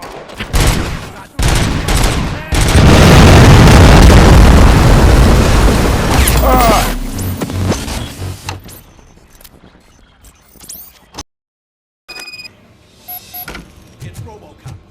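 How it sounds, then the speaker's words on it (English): Gunfire and explosions in the video game RoboCop: Rogue City, with loud sharp shots and heavy booms that build into a roaring barrage, then thin out to scattered pops and clanks before brief silence. "Am I hearing gunshots?"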